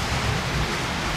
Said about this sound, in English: for the first time in Australia, torrential rain.